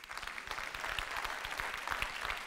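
Audience at a stand-up comedy show about divorce clapping steadily, a dense, even patter of many hands throughout with no talk over it.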